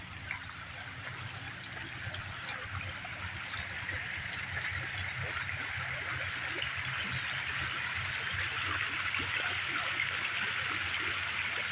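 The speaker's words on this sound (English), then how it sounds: "Yeah, creek's flowing pretty good," Creek water flowing steadily outdoors on a trail, a continuous broad rushing and trickling wash with low rumble underneath, even and moderately distant throughout with no voices.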